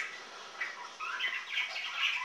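Adopted pet budgies chirping and squawking indoors, a quick run of bright overlapping calls, close and moderately loud.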